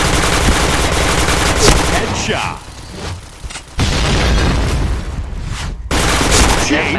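Video game gunfire rings out in loud, rapid bursts of automatic shots with booming reports, briefly dipping in the middle before resuming, while a voice speaks a short word.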